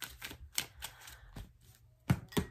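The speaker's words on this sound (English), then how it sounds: "One more shuffle." Tarot cards being shuffled in a quiet room, giving a handful of soft, separate riffling and tapping bursts at uneven intervals, with the loudest pair near the end.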